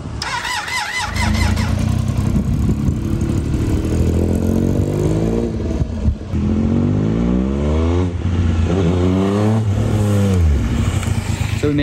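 A long-neglected motorcycle ridden slowly up and down a driveway at low revs, its engine loud and close with repeated rising and falling throttle sweeps as it pulls away and returns.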